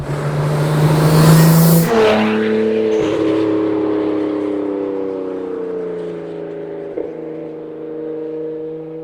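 A Nissan Skyline R34 GTT engine revs loudly, then drops into a sustained, slowly falling whine as the revs settle, with a brief blip near the end, heard up close and without talk.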